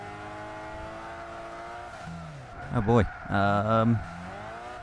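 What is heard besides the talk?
Fiat Panda Super i.e. engine in video game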